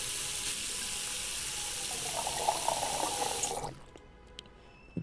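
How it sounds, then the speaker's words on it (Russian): A large pot filling with 300 litres of water in Cooking Simulator, a steady close rushing tap stream that runs for several seconds and then cuts off abruptly into near silence with faint clicks. "Вода, 300 литров. Возьму вот эту кастрюлю."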